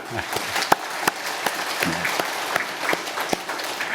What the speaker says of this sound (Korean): 우리 함께 하신 주님께 한번 감사의 박수 한번 드릴까요?